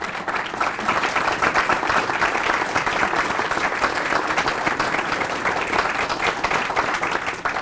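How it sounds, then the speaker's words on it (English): A large audience at a mayoral candidates forum in Bloomington, Indiana claps steadily and loudly, dense continuous applause that holds at an even level throughout. "I think we should give them a round of applause."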